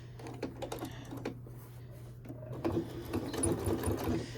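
A sewing machine stitches down an oven dress towel, starting with a few short bursts and pauses, then running into a steadier close clattering rhythm of rapid needle strokes, with no voices.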